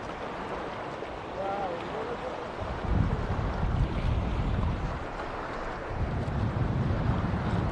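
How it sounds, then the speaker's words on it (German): Rough sea water at Side sloshes and churns under a steady rush of wind, with heavier surges of noise partway through; no voices. "das Wasser ist heute auch ein bisschen aufgewühlt"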